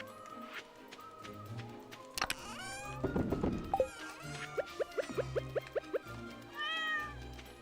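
A cat in a farming video game meows in several short calls amid background game music and plucked tones, with a few louder mews near the middle and end.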